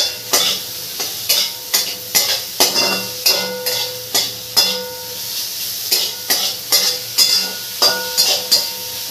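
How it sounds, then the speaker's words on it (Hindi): Soybean curry in a pan is stirred after salt goes in, with a quick run of regular clinking, scraping strokes of a spoon against the metal over a faint sizzle, close by, with no talking. "ठीक है, इसको चला देंगे अब"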